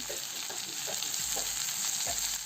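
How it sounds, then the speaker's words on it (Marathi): Chopped tomatoes sautéing with browned onion in a pan, a steady close frying sizzle with a few soft stirring scrapes throughout, no talking. "टोमॅटो नरम होईपर्यंत याला परतायचे"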